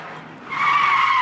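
Car tires skid and squeal through a handbrake turn, a short screech that swells suddenly after a quieter moment and holds loud to the end.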